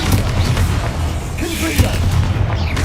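A Bombarda blasting spell detonates in Hogwarts Legacy, with heavy booming explosive thuds and rumbling low-end bursts filling the scene while a voice speaks over it.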